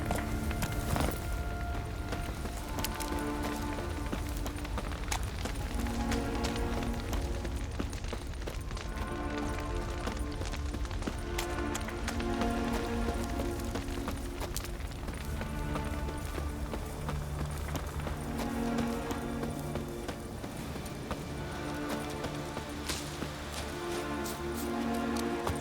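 Roach, a horse in The Witcher 3: Wild Hunt – Hearts of Stone, gallops with steady clip-clop hoofbeats under continuous music, a constant rhythmic thud running throughout.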